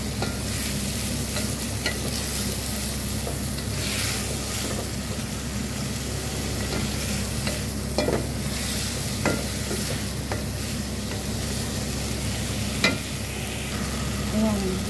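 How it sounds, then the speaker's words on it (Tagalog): Garlic and onion sauté in a pan, a dense steady sizzle running throughout with occasional clinks and scrapes from stirring, close and fairly loud. "Ayan, magigisa na ako. Bawang sibuyas."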